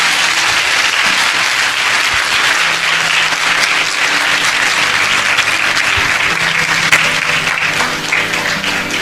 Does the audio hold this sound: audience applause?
yes